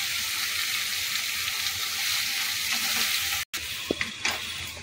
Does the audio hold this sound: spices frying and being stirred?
yes